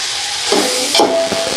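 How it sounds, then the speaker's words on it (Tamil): Onions and tomatoes sauté in a pan for chicken curry, giving a steady close sizzle and hiss, with a few brief louder bursts as the pan is stirred. No one speaks. "வெங்காயம் தக்காளி கொஞ்சம் வதங்கிட்டு இருக்கட்டும்"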